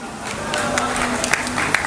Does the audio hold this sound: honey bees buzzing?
no